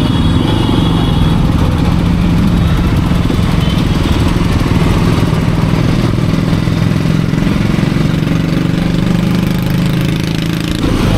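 A new motorcycle's engine runs loud and close on a short ride, a continuous steady drone with no voices.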